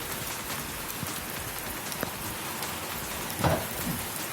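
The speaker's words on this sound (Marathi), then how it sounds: "यावेळी वादळी वाऱ्यासह जोरदार पाऊस झाला" Heavy rain pours during a night storm with strong wind, a dense, continuous hiss of drops on surfaces with a few louder splashes and one sharp knock near the end.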